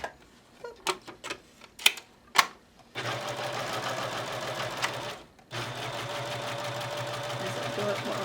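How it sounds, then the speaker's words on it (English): Rethreaded sewing machine stitching a woven placemat, first a few sharp clicks and short taps, then two sustained runs of close, steady stitching split by a brief stop. "I rethreaded my machine, so I'm going to watch where it stitches"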